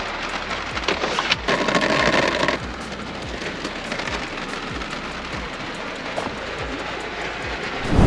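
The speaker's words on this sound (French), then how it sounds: "il se remet à pleuvoir" Steady rain falls outdoors, a dense hiss with scattered louder patters and drips, fairly close and alone without any talk.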